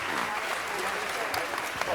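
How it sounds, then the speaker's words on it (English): Applause from the audience at a city council meeting, a steady wash of many hands clapping continuously under a noisy room, fairly close and moderately loud throughout. "Let's give them a great round of applause."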